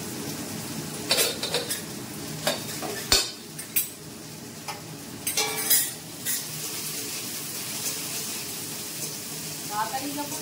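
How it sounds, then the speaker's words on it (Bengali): Potatoes frying in a pan for an okra-potato curry, with a soft steady sizzle under scattered sharp clinks and scrapes of a utensil stirring against the pan, close and moderately loud. "আগে আলুটা একটু ভেজে নিচ্ছি"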